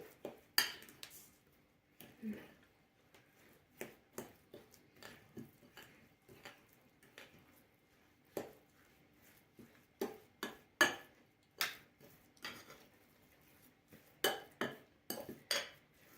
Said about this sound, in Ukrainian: Перемішуємо, вимішуємо і хай запарюється.